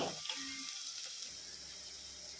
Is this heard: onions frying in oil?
yes